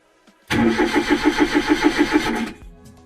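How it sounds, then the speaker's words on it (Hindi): A car engine with a troublesome battery cranks in a rapid, even rhythm of about a dozen pulses, then catches and runs steadily before cutting back, loud and close with no talk. "फाइनली गाड़ी स्टार्ट हो गई है"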